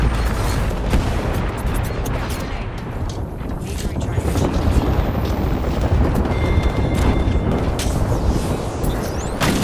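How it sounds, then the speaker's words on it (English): A grenade blast in the video game Apex Legends lands as a heavy boom amid dense bursts of game gunfire and clatter, loud and continuous. "Grenade."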